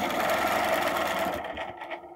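Close, loud sewing machine stitching an arc across fabric, a continuous mechanical whir that tapers off near the end.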